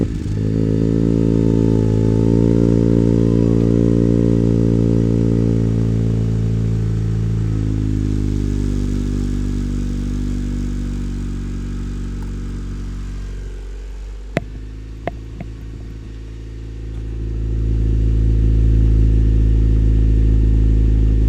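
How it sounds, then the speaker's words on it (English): A 9th-generation Honda Civic Si with a full race exhaust revs steadily and loudly up close, the engine note rising and falling in sustained pulls, dipping briefly with a few sharp clicks before building back to a strong, droning rev. "Let's see how this bad boy sounds."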